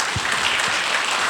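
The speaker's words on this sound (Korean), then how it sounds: "큰 박수로 맞아주시기 바랍니다" An audience of staff at a special lecture breaks into dense, steady applause to welcome the district head, a loud continuous wash of many hands clapping at once.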